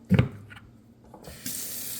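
Hot water runs from a tap into a sink to sterilize garden-grown luffa sponges. A brief knock comes first, then a steady hissing stream of water starts and keeps flowing, close and clear.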